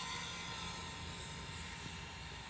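A Blade Revolution 235 CP hobby-grade RC helicopter with an orange body hovers low and stable nearby, giving a constant high whine and buzzing rotor hum throughout, fairly faint and steady.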